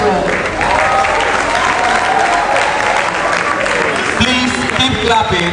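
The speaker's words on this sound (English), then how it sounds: "Please keep clapping, continue clapping until he gets here." Loud, continuous clapping from a crowd at a university symposium in Nigeria, a dense steady roar with voices mixed in and a speaker talking over it toward the end.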